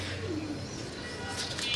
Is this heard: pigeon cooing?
yes